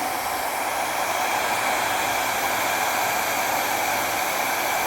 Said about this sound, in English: I'm using my lovely small little hairdryer, 1000 watts